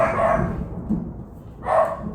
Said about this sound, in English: There's the thunder and the dogs barking.